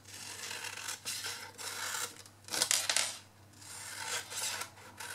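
Scissors snip and rasp through paper while cutting wedges for a paper-bloom gift box, a series of close, soft crunchy cuts in irregular bursts with no talk.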